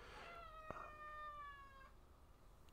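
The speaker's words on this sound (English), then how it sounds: "That's my cat." A house cat gives one clear, drawn-out meow that rises and holds for under two seconds, close by in a quiet room, followed by near silence.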